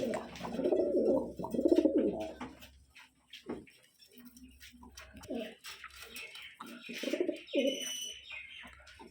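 Kashmiri Lotan and Saki Teddy pigeons cooing close by in a loft, with low rolling coos at the start and again later, mixed with faint chirps and light rustling.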